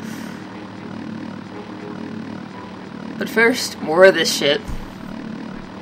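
A helicopter's rotor and engine drone runs steadily in the Body Harvest video game, set in America in 1966, while someone talks over it.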